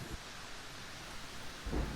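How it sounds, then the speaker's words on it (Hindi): Heavy rain pours steadily outside as a dense hiss, with low rumbles of thunder at the start and end of the clip. No voices. "बाहर बहुत तेज़ बारिश हो रही है।"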